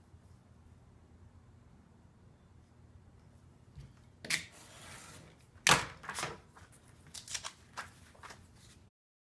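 Scissors snipping through several stacked bookbinding pieces at once, a few crisp close cuts separated by quiet pauses and faint handling rustle.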